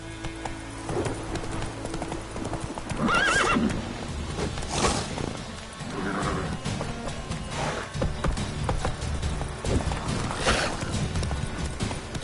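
A horse in The Witcher 3 gallops with rapid rhythmic hoofbeats, loud and near, broken by a few sharp whinnies throughout.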